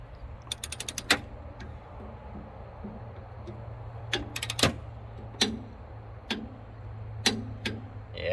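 A torque wrench tightens the bolts of a Demco Recon 5th wheel hitch to 30 foot-pounds. Sharp ratcheting clicks come in quick bursts and single ticks over a low, steady background hum, with no talking.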